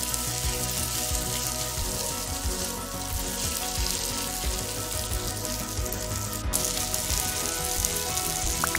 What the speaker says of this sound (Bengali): আমি মশলাটাকে আবার ভালো করে মাছের মাথাটা যে ভেঙেছিলাম ওটার সাথে ভালো করে একটু ভেজে নেব।